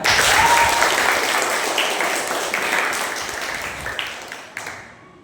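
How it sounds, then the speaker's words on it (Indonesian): A burst of group clapping in a room, loud at first and gradually thinning out to a few scattered claps before stopping. "tepuk tangan buat Arya."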